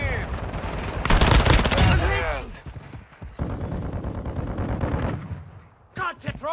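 Video game gunfire, a dense burst of rapid automatic shots with sharp cracks, loud and close, followed by scattered single shots, with a voice speaking over the action.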